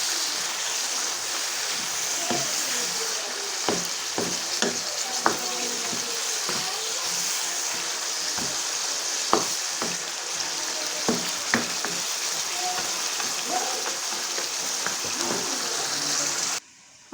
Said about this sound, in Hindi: चिकन हमारा अच्छी तरह से पक रहा है।